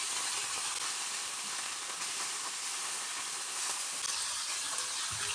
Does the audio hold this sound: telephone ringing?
no